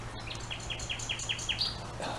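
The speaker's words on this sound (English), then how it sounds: "oh wow, that is a loud bird." A loud bird calls repeatedly beside the patch of an old former fish pond, a run of about eight quick bright chirps near and clear over a low outdoor hum.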